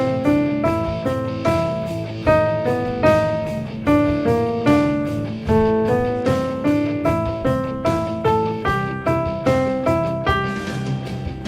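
Keyboard playing In the Hall of the Mountain King along with a backing track: a steady, plucky staccato melody climbing in repeated phrases over a regular beat, close and clear with no talking.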